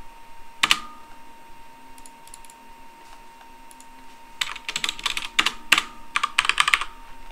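Typing on a computer keyboard while editing Java code: a lone keystroke, a quiet pause, then a rapid flurry of close, crisp key clicks over faint background hum.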